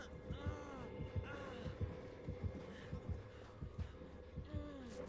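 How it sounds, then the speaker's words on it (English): A slow, regular heartbeat thumps steadily in the horror game Dead by Daylight, the deep pulses repeating about every half second over a low droning hum. "I will listen to that heartbeat"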